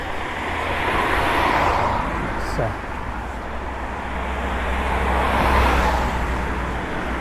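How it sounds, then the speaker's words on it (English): Road traffic on a village street in North Bradley, Trowbridge, Wiltshire, with cars swelling past close by one after another over a steady roadway rumble. "Let the traffic go by."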